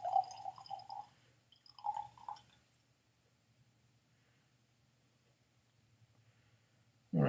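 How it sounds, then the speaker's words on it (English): Scotch whisky poured from a small sample bottle into a glass: two short, faint trickling splashes a moment apart, then quiet. "And let's pour it this way, from the left hand"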